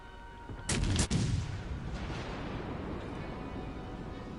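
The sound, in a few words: battleship guns firing in World of Warships video game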